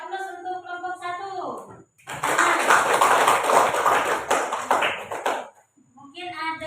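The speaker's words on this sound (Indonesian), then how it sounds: "Kita beri aplaus untuk kelompok 1" A classroom group claps for the first group after its presentation, a dense burst of applause lasting a few seconds, with a person speaking just before and after it.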